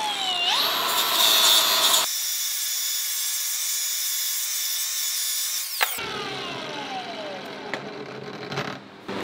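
A power tool grinds and finishes a metal part with a loud high-pitched whine, changing tone as it engages and leaves the workpiece over a few seconds.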